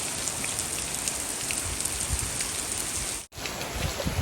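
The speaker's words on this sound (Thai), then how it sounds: "ถือว่าฝนมาเร็วครับ" Heavy summer-storm rain pours steadily and loudly as a dense, even hiss of drops striking surfaces, with a brief cut near the end before the downpour resumes.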